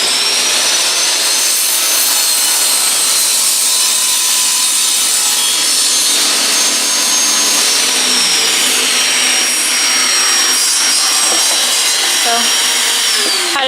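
A table saw rips through a piece of wood held steady on a sled, a loud continuous whining cut lasting the whole stretch with the blade pitch shifting toward the end.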